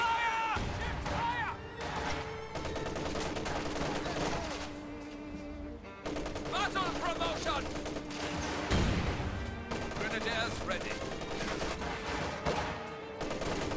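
Rapid machine gun bursts rattle on and off through a busy real-time strategy battle with Volksgrenadiers pushing toward a fuel point, mixed with explosions and a dense wash of combat noise over a continuous music bed.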